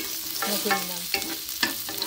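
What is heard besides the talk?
sauteing pepper leaves in olive oil for tinola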